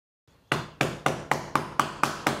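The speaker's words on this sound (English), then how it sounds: "Start hammering together your first line of tiles." Laminate click-floor tiles being hammered together during installation, eight sharp, evenly spaced knocks ringing out close and loud, with a short faint tap just before.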